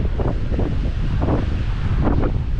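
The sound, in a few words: ocean waves and wind at Outer Banks beach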